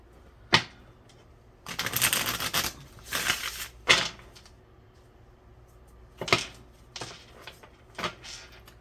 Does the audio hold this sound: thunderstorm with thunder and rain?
no